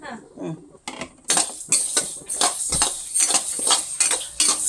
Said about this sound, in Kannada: ಕೊತ್ತಂಬರಿ ಬೀಜ ಅವನ್ನ ಹುರ್ಕೊಂತೀನಿ